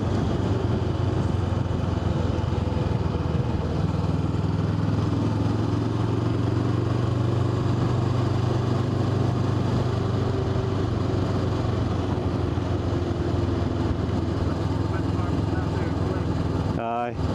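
A motorcycle engine drones steadily throughout on a single-track road on the NC500 route in Scotland, a loud continuous rumble with wind noise as it travels along, briefly cutting out at the very end.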